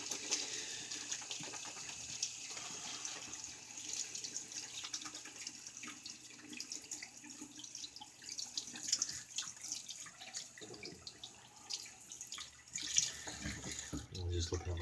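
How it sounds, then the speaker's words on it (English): A shaving brush being rinsed under a running bathroom tap: a steady rush of water with splashing and shifting flow as the brush moves through the stream, while someone talks over it. "let me get the brush rinsed here."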